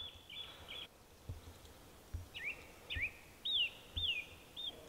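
Birds sing on a spring evening in Sherwood Forest, a series of clear, fairly faint repeated whistled phrases at a distance against a quiet outdoor background.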